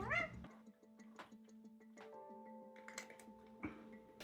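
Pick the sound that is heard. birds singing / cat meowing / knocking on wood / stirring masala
cat meowing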